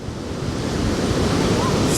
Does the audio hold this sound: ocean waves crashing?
yes